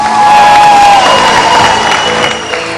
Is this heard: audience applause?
yes